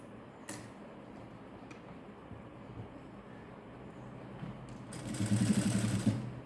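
Sewing machine stitching a lace border: after a quiet stretch with faint handling noise, a short, loud burst of rapid, even mechanical clatter comes near the end.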